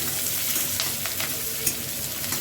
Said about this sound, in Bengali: দিয়ে দিচ্ছি পেঁয়াজ কুচি, আর এটা একটু হাই ফ্লেমে নেড়ে নিচ্ছি 1 মিনিটের জন্য।